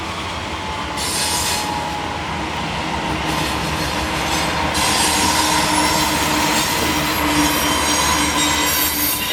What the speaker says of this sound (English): Was not expecting a freight train, but this is certainly a welcome surprise.